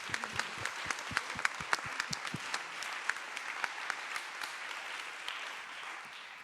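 Conference audience at a national meeting of social economy support workers applauding themselves, dense sustained clapping with sharp individual claps standing out early, building then steadily tapering, moderately close with no voices.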